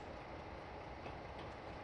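A train in a simulator game backing up to couple onto its cars on the Great Western Main Line, giving a faint, steady rumble of rolling wheels and running gear with no voices.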